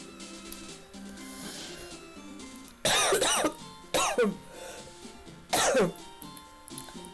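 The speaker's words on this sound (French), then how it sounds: "Excusez-moi, je tousse." Three harsh, close coughs in separate bursts over a quiet background hum, from a player during a Pokémon FireRed playthrough.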